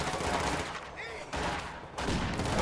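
Rapid bursts of gunfire and a grenade blast in a World War II strategy video game, loud crackling volleys broken by two brief lulls, with no voices over it.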